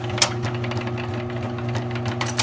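Electric 110-volt grommet machine pressing a grommet, giving a steady motor hum broken by short sharp clicks and thumps, heard close and alone over a couple of seconds.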